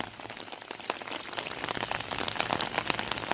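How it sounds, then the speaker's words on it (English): Heavy rain pours steadily, a dense hiss dotted with sharp droplet splashes close by, growing slightly louder toward the end. "It's freaking raining its butt off today."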